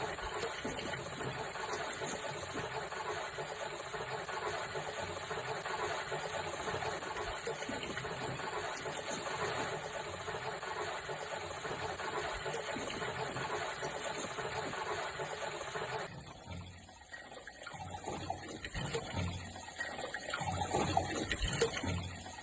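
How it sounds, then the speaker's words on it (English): An internal flush valve inside a high-tech greywater system's filter sucks filter-cake scum out through the flush port, producing a steady, close rushing hiss of water and machinery that runs for about sixteen seconds and then shifts to a thinner, uneven gurgle. "we can hear the internal flush valve of the filter that is sucking off the filter cake scum"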